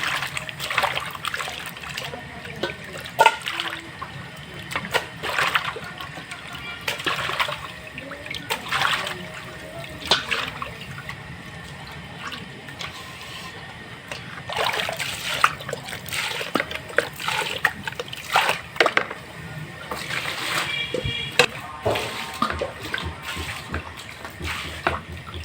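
Chopped layer chicken meat is washed by hand in water during village cooking, with repeated bursts of splashing and sloshing interrupted by brief pauses, fairly close.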